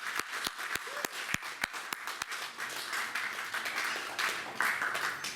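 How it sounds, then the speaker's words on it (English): Crowd applause at a mayoral inauguration ceremony for a performing-arts guild, heard as a quiet, steady wash of many hands with a few sharper nearby claps standing out early, fairly distant and without talk. "let's have a big round of applause for the inauguration of ACTap"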